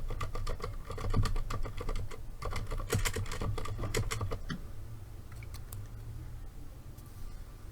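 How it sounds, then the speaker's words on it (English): Computer keyboard keys clatter in quick, close, irregular bursts of typing for about four seconds, then drop to sparse, fainter single taps, with no voices. "And what's your opinion on keyboard typing?"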